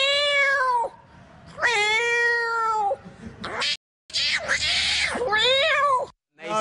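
A person imitates a cat, producing several long, convincing meows and a yowling caterwaul with brief pauses in between, loud and close to the microphone.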